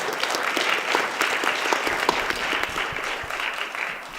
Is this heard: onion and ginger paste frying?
no